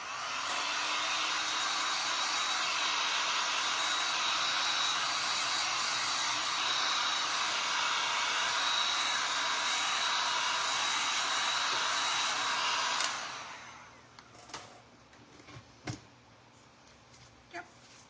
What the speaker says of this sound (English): Let me use my heat tool better.